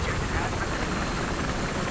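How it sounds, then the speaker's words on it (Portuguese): Helicopter in the video game Battlefield 3, a steady dense rotor and engine roar filling the whole clip, loud and continuous, with a voice talking over it. "Quase caindo com o helicóptero aqui, mas tudo bem."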